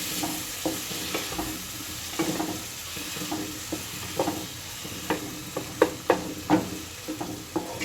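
Onions and tomatoes fry in a pan with a quiet, constant sizzle, while a spoon scrapes and stirs in irregular knocks that grow sharper toward the end.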